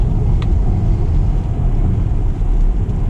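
A Tesla Model X pushed hard through a corner gives a steady, loud low rumble of road and cabin noise, heard from inside the car without talk.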